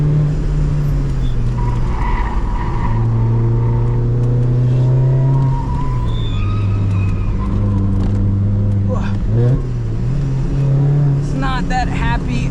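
A supercharged Mazda ND Miata engine on a racetrack drones and shifts pitch as it accelerates, lifts and revs through the gears, loud and steady from inside the car, with someone talking over it and brief tire squeal.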